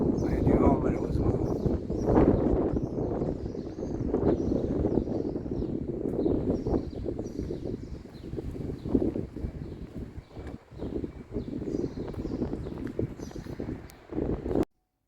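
Wind buffets the microphone on a pilgrimage path toward Santiago de Compostela, a loud rumbling gusty roar that persists throughout, with a person talking beneath it.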